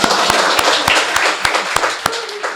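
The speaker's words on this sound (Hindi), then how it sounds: "सन्नाटे के लिए जरा एक बार जोरदार ताली।" Audience applause at a live Hindi poetry recitation, a steady loud wash of many hands clapping with sharp individual claps standing out, continuous and close.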